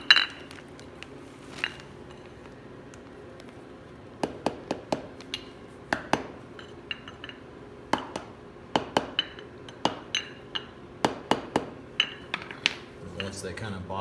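A socket drives parts into place during a go-kart motor and reverse gearbox install, giving a series of sharp metallic taps and clinks that grow more frequent through the second half, with faint workshop background.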